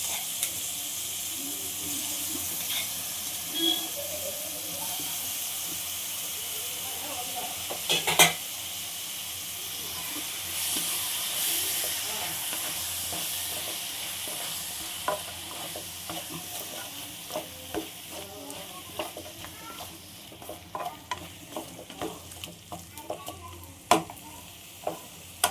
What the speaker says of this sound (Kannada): ಈಗ ಮಶ್ರೂಮ್ ಹಾಕ್ತಾಯಿದ್ದೀನಿ.